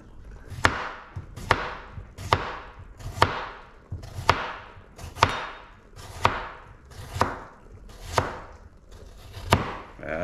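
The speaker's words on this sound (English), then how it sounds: "So a layer of, we're going to do the potatoes. Why didn't you get a bigger chopping board, Steve?" Potatoes being chopped with a knife on a small chopping board, about ten evenly spaced, crisp, close-up chops with nobody speaking.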